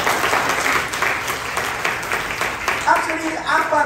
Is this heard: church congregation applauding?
yes